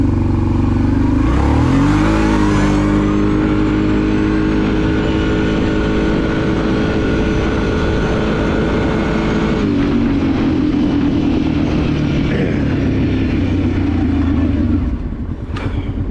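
A Kawasaki Prairie 650 ATV driven in four-wheel drive after being revived from an abandoned state, its engine droning loud and close with a rise in revs near the start and a steady running note that shifts later on.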